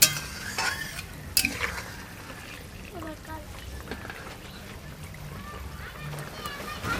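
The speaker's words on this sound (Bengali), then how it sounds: "এবার একটু তরকারিটা নেড়ে দেব" Rohu fish curry with potato, brinjal and bori is stirred in a pan, giving clinks and scrapes of a ladle over a low bubbling simmer. A few louder knocks come near the start.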